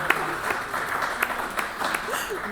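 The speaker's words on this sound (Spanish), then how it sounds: "y de verdad que arranca un aplauso." A seated audience at a senior economy conference gives steady applause, a continuous mid-level patter of many hands with a few sharper claps standing out.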